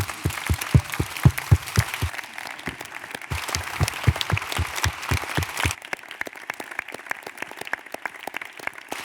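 An audience at a gathering of designers and associated contributors applauds the team, starting with loud separate claps and then settling into a dense, even stretch of clapping that continues to the end, with a brief change in texture partway through.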